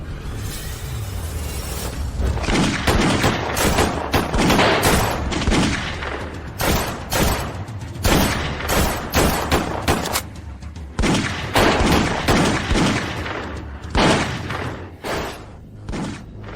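Loud, dense gunfire from an action film scene, rapid bursts of shots and heavy thuds crowding together almost continuously for the whole stretch, with occasional crashing impacts and no clear speech.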